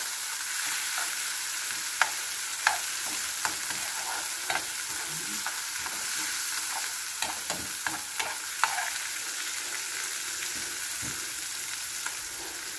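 Marinated onions sizzle steadily in a little hot oil in a home kitchen pan for pork chop steak, a soft continuous fry broken by occasional faint clinks and scrapes of a utensil.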